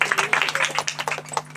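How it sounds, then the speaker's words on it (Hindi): Congregation clapping loudly in praise during a Hindi-language church sermon, a fast, dense run of handclaps that continues steadily for the whole stretch, with no voices over it. "हम जीवित खुदा के लिए जोर से ताली बजा के तारीफ करेंगे।"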